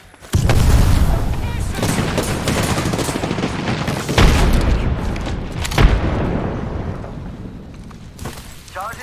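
Apex Legends combat with a thermite grenade and an arc star going off: a loud sudden blast followed by ongoing crackling gunfire and further booming bursts, while a voice speaks over the chaos.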